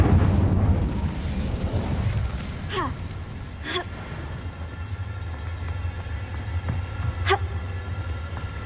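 Incendio fire spell in the Hogwarts Legacy video game: a loud, whooshing fiery blast at the start gives way to a lower rumble, with a few sharp effect sweeps and clicks afterward.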